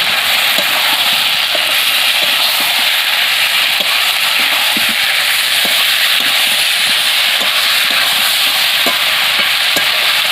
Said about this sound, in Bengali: এখন আমি ভেজে রাখা হিঁচড় আলুটা দিয়ে কষিয়ে নেব।